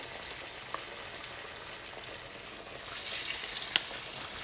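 Snack pieces deep fry in hot oil, giving a soft continuous sizzle and bubbling that swells slightly toward the end, with a couple of small pops.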